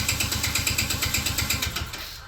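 An old engine that sat for 17,379 hours cranks after a carburetor tickle, giving a steady rapid pulsing chug that fades out near the end, with no talking.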